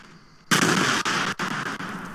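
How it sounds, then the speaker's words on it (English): Grenades exploding in Fortnite, a sudden loud burst of blasts erupting after near silence and rumbling on for under two seconds, with short breaks between the bangs. "Who threw the grenades?"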